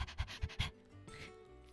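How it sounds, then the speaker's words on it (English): A dog panting in Final Fantasy XVI: four quick, rhythmic breathy pants up close, then a sustained musical drone and faint game ambience. "It sounded like a dog panting."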